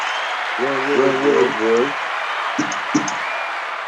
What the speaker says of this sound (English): give Tyler McKinney a round of applause